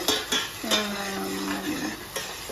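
Spice paste of fennel, garlic, chili powder and turmeric frying in a pan, with a metal spoon scraping and clinking a few times over a soft, steady sizzle and no talk.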